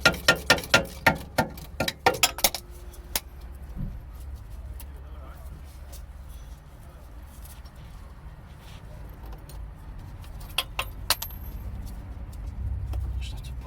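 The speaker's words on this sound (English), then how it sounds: "this is the last pair of bolts that need undoing" A wrench clinks and rattles metallically while undoing the last pair of bolts on a BMW during an ABS/DTC fault repair, with a quick burst of close knocks early on followed by quieter handling noises and a few later clicks.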